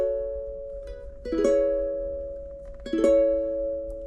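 Ukulele with a capo fitted, raising its pitch, strums two bright chords about a second and a half apart, each ringing out and sustaining alone in a quiet room.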